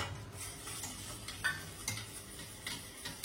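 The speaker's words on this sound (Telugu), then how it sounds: "ఆయిల్ హీట్ అయితే పోపు దినుసులు వేసుకున్నాం" Tempering spices crackle and sizzle in hot oil in a small kadai, a quiet close-up frying hiss broken by irregular sharp pops and spits.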